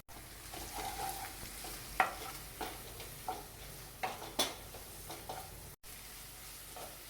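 Chopped onions fry and sizzle in a kadai for a cauliflower Manchurian, with a steady crackle and irregular scraping stirs and clinks of the spatula against the pan, close up and without talk.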